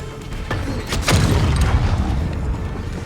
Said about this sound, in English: we have a grenade launcher with different types of ammo. We've got an explosive ammo.